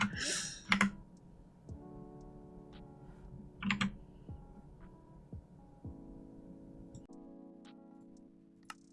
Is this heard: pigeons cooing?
no